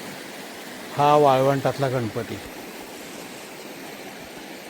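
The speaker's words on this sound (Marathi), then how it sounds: "हा अतिशय सुंदर असा पाण्याचा प्रवाह," The Krishna river flows and gurgles past a riverside ghat as a steady, even wash of water that runs through the whole stretch, with someone speaking briefly over it near the start.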